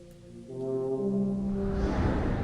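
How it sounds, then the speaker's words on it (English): An air horn in the Zork Nemesis video game blows a single sustained, deep tonal blast that swells and holds for about two seconds, loud and alone. "So we should blow the air horn rather than the fire horn. Let's blow the air horn."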